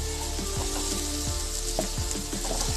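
Spices and vegetables fry in a pan for masala oats, a steady crackling sizzle with soft stirring scrapes and clicks, fairly quiet and close, with no talking.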